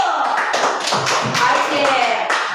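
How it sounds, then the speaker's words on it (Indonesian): Schoolchildren in a classroom clap their hands together, a brisk, fairly close patter of uneven claps running through the whole moment without talk. "Tepuk tangan dulu"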